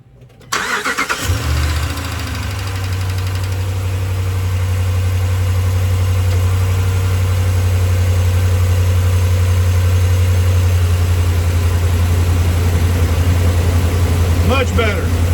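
A Ram 5.7 Hemi V8 with a newly replaced exhaust manifold gasket starts within the first second, then settles into a loud, steady, deep idle heard up close.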